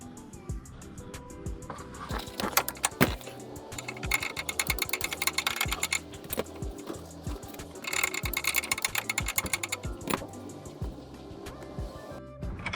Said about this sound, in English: Okay, now to remove the bolts up here.